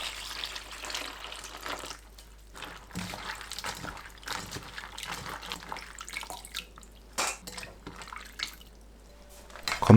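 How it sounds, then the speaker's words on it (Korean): Dried shiitake mushrooms being lightly rinsed in water, with steady splashing, trickling and dripping close up, alone and without talk. "건표고버섯을 물에 가볍게 헹굽니다."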